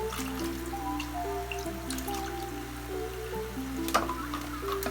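Water trickles and drips steadily as an aquarium filter is filled before being switched on, soft and continuous beneath louder background music.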